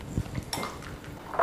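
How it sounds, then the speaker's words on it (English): Egg yolks, cornstarch and chocolate liqueur are whisked together in a bowl, giving soft clinking and scraping of a whisk against the dish in a short, uneven burst with no talking. "To the egg yolks, go ahead and add a ¼ cup of cornstarch and 3 tablespoons of that delicious chocolate liqueur that you used in the cocktail,"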